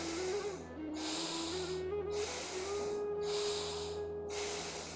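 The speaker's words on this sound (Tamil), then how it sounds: "நல்ல மூச்சை வெளியே விடுங்க" Deep, steady exhalations during a yoga breathing exercise, four long airy hisses in a slow even rhythm, close and clear, with a faint hum beneath and no talk.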